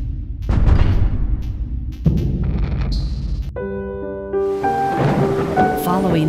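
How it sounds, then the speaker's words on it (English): Deep rolling thunder rumbles loud and close during a storm, with heavy rain hissing throughout as the crashes fade, and music rises beneath it toward the end. "The sound of thunder now strikes terror in the hearts of residents."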